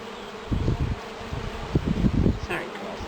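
Honeybees in an opened top bar hive buzz and hum around the comb in spring, with close bursts of wingbeat droning rising and falling and faint handling noise.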